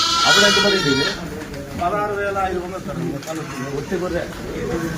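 Sheep bleating on a farm, a loud, wavering animal call at the very start followed by quieter bleats and farm sounds, with people talking over much of the scene.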